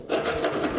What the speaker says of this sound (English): This handheld hacksaw works, but a 3-inch cutoff wheel might go faster.